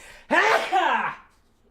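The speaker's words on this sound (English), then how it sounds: "Oh, I got to sneeze." A single loud, close sneeze bursts out with a voiced, two-part exhale, then fades to quiet.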